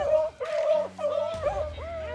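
Hunting dogs on a rabbit's scent give a string of close, high yips and barks in quick bursts, with a whimpering edge between them, at the start of the chase in the field.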